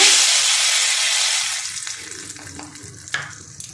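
Hot frying oil in a wok, a loud broad hiss that fades over a few seconds into softer crackle, with a sharp spatter or pop near the end when salt hits the oil.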